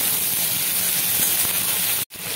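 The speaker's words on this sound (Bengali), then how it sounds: "আর আলু বেগুনটা দিয়ে দেওয়ার পরে এভাবে 2-1 মিনিট মিডিয়াম টু হাই ফ্লেমে রেখে এগুলোকে ভাজতে দেবো।" Potatoes and eggplant fry in hot oil over a medium-high flame, giving a steady, close sizzle and hiss that runs unbroken before a sudden brief cut.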